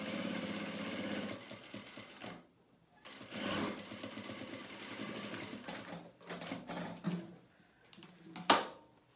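A sewing machine runs close up, stitching a seam in fabric with a fast, even whirring hum in several bursts separated by short pauses, ending with a brief sharp clack.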